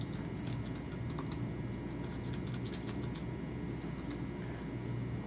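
Soft, quiet key taps click in a steady run over a low background hum, faint and muffled, typing on an APH Refreshabraille display.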